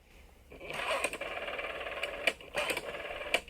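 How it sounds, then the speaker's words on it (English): A telephone hotline ringing, an electronic warbling ring that starts after a brief pause and repeats in short bursts with a few clicks between. "the Making Fun of MacGyver hotline is ringing"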